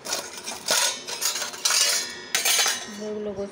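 Washed dishes and utensils clatter and clink as they are put away at home, several loud metallic bursts close by, ending with a faint ringing tone.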